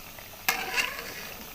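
Shakarpara, sweet dough pieces, frying in oil over a medium-to-low flame, with a steady soft sizzle and a couple of sharp stirring clinks from a utensil against the pan partway through.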